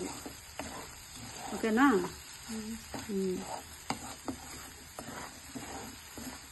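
Spring onion, carrot and egg bhurji sizzles steadily in a frying pan, a soft continuous crackle with occasional stirring scrapes, while someone briefly speaks over it.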